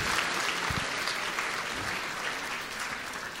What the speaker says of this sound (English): Can we get another round of applause for Carrie, Samir, and Wemimo?